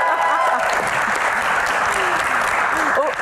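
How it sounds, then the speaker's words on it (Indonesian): Sustained audience applause in a live Q&A comedy show venue, a thick, even wash of clapping hands filling the room, with faint voices and a whoop rising near the end. "Tepuk tangan."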